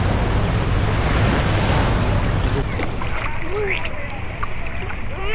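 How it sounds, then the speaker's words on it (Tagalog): Sea waves wash and break at a beach in Boracay, a loud broadband rush with wind noise that fades somewhat toward the end, with a voice speaking briefly. "Nandito na kami sa dagat!"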